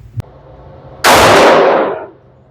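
A Canik TTI Combat pistol fires at an outdoor range: a faint click, then one sharp, loud report that rings out and decays over about a second.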